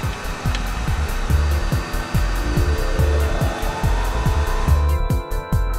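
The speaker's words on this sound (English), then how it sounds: "Cerium oxide, the abrasive in liquid form, gets in between the plate and the quartz and laps off irregularities on the quartz, little by little." A Tanaka lapping machine polishes quartz against a soft pitch plate with liquid cerium oxide abrasive, giving a loud, steady mechanical drone with a regular rhythmic thumping pulse that continues throughout, with no talk.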